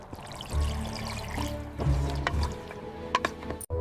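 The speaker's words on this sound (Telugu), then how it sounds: "ఇప్పుడు చింతపండు పులుసు, కొంచెం నీళ్లు వేసి కలుపుకోవాలి." Tamarind juice and a little water poured into a simmering village-style Andhra fish curry in a pan, a close liquid splash and trickle with sizzling bubbling underneath.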